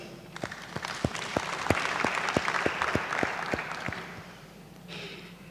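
A crowd at a graduation ceremony applauds steadily, many hands clapping together with a few sharper, rhythmic claps standing out, fading near the end.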